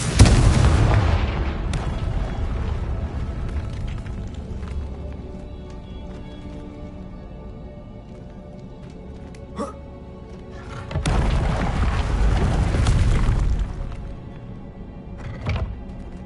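Confringo blasting spell detonating in Hogwarts Legacy combat against an Ashwinder, heard as booming explosions near the start and again around the middle, each with a rumbling tail, separated by quieter game ambience and a sharp crack.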